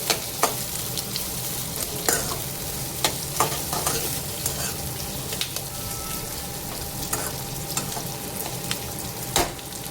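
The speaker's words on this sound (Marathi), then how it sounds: "आणि यांना छान तेलामध्ये परतवून घ्यायचंय." Slit green chilies sauté in hot oil with a continuous sizzle, broken by sharp clinks and scrapes of a spatula stirring against the pan.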